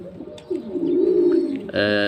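Domestic pigeons kept by a breeder coo in a soft, rolling call close by, followed by a brief brighter harmonic sound at the end.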